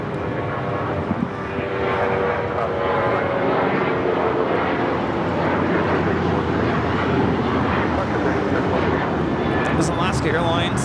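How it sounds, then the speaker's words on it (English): Alaska Airlines Boeing 737-800 on its takeoff roll at LAX, a loud, continuous jet engine roar that holds steady throughout with a rumbling broadband texture, while a voice speaks over it. "This is Alaska Airlines 1334 taking off to Belize City on the 737-800"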